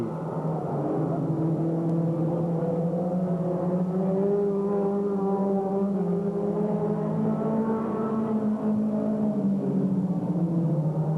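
Stock cars racing on an oval track, with a steady droning engine whine that shifts slowly in pitch as the cars run through a turn, heard at a distance and continuous throughout.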